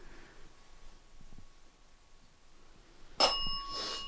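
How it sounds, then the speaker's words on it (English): A single bell rung sharply near the end of a quiet room recording during a ghost hunt at the Grand Midway Hotel, its bright metallic ring fading over the last second. "It does seem like you enjoy that bell."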